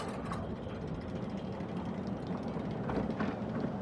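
The Fire Runner roller coaster, ridden in reverse, sets off with a continuous low mechanical rumble and clatter of the train on its track, steady and close, with no voices.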